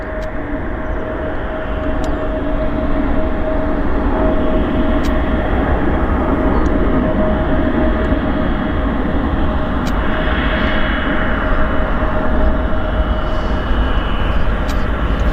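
An airliner at Vancouver YVR climbs out after takeoff with gear up, a steady loud engine roar holding throughout with a sustained tonal whine, no talk over it.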